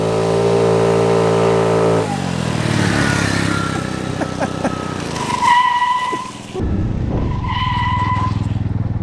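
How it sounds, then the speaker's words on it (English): A modified scooter engine revs hard as the rider tries for a wheelie, rising from a steady drone to loud, strained high-pitched acceleration with a brief dip before revving again, close by. "Let's try to do a wheelie."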